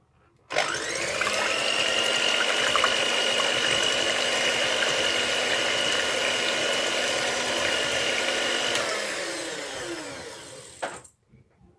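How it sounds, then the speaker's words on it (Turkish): An electric mixer whirs steadily at low speed whipping six egg whites in a mixing jar, a constant close motor drone lasting about ten seconds before winding down and stopping, with no voices. "Evet şimdi yumurtalarımızı kar yapıyoruz. 6 tane yumurta beyazımızı karıştırma kavanoza koyuyoruz. İlk önce düşük seviyede başlıyoruz."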